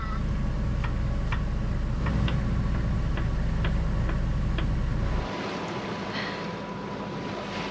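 A sailboat motors under engine power in calm air on warm open water, a steady low engine drone running continuously with faint wind and water noise, the drone dropping away near the end.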